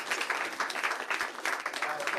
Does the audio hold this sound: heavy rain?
no